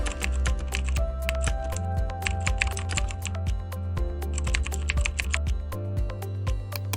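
Fast, steady typing on a computer keyboard, dense close key clicks in quick bursts with brief pauses, fairly loud and alone without talk.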